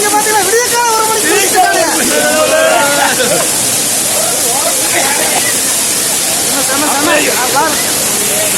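Kutralam waterfall in Tenkasi at night pours in a loud, steady roar of rushing water that fills the whole clip, with people's voices faintly audible through it.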